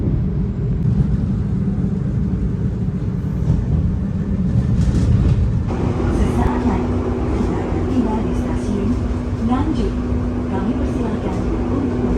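Argo Semeru passenger train running from Surabaya Gubeng to Jakarta, with a steady loud low rumble of the carriage rolling on rails and faint tonal hums, heard from inside with talk in the background.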